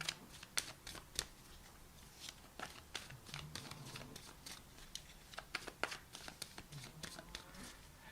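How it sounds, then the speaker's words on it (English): Tarot advice and guidance cards being shuffled by hand, a steady run of crisp, close riffling slaps and flicks of card stock with soft papery rustles between them, with no talking. "I'm going to pull some high-level advice and guidance cards for you."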